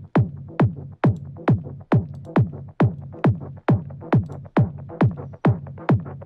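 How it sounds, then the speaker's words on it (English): A steady four-on-the-floor techno kick drum, high-passed at the start, thumps alone at a brisk, even pace, with a low bassline and light percussion filling the gaps between beats. "we have a little bit of a high pass kick drum at the start here"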